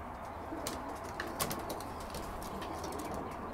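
Pigeons in a loft give soft cooing calls over a steady, faint background hum, with a few brief clicks and rustles.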